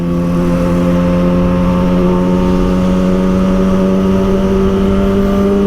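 Motorcycle engine held at a steady high rev, a loud continuous drone with strong tonal harmonics throughout and no speech.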